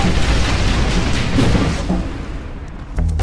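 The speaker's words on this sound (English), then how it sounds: "Take over the cannons, then use them to take out the remaining Mexican army and their artillery caches." Cannon fire and explosions ring out in the Red Dead Redemption video game during a battle against the Mexican army and its artillery caches, a loud continuous rumble of booms and blasts that briefly dips before another hit.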